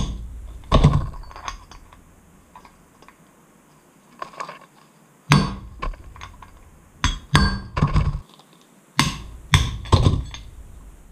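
A hammer strikes a pin punch against a trailer wheel hub, producing sharp metallic taps scattered irregularly, some single and some in quick clusters, close and loud with quiet gaps between.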